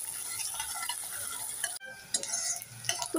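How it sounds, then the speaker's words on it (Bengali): Chopped onions, two medium ones cut fine, stir-fried in a generous amount of oil for a crab curry, with a close, steady sizzle and scraping stirs of a spoon in the pan, briefly interrupted midway before the frying noise resumes. "এবার নেড়ে চেড়ে পেঁয়াজগুলোকে 1 মিনিট ভেজে নেব।"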